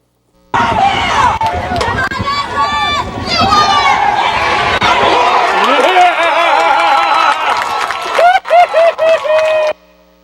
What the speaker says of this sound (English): that was me on the film cheering for my son